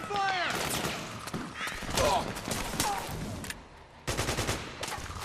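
Rapid gunfire crackles in the Metal Gear Solid 4 video game, with dense bursts of shots over battle noise, close and loud, while voices shout orders.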